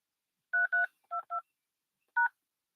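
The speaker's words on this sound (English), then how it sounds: "Please enter your password, then press pound." Five quick telephone keypad tones beep at close range, four in a rapid pair-by-pair sequence, then one more after a short pause.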